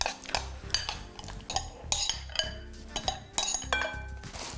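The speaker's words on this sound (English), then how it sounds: "Once you mix it with the kimchi sauce here, you'll get a lot more moisture during the fermentation process from the vegetables." Vegetables being mixed with kimchi sauce in a bowl give a busy run of close utensil clinks, scrapes and stirring knocks in an uneven rhythm, with no talking.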